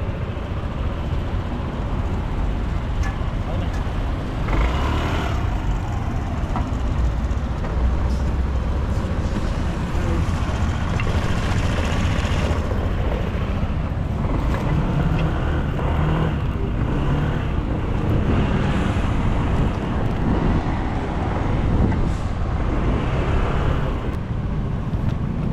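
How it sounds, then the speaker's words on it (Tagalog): Continuous road traffic with passing cars and many motorcycles, a steady dense rumble of engines with occasional revving swells, heard close and loud throughout with no speech. "Sasakyan mga kabady. Puro halos marami dito mga nakamotor."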